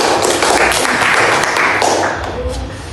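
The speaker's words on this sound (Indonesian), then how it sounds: "Oke, aplaus juga untuk Ija." Applause in a classroom during a teacher training lesson: a dense, steady patter of many hands clapping, loud and close, fading slightly toward the end.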